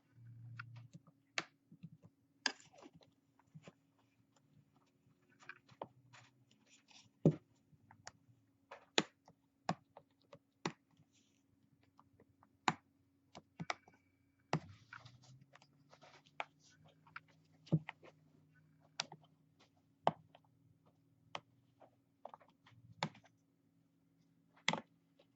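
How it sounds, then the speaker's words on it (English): A Sesamo pry tool works around the back cover of an Amazon Kindle Fire tablet, giving sharp, irregular plastic clicks and snaps as the clips release in a quiet room. "This is where we're going to put our Sesamo in and kind of pop the back cover off."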